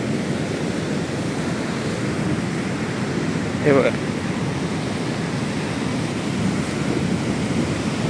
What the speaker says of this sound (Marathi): लाटा किती जोरदार असतात याचं एक उदाहरण तुम्हाला बघायला भेटेल